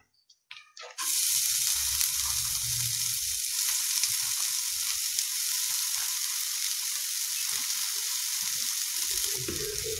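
Chopped banana flower hits a pan of hot tempered mustard seeds for a Kerala thoran, a loud steady sizzle that starts abruptly after a brief clatter and holds for nine seconds, with low rumbles of stirring beneath.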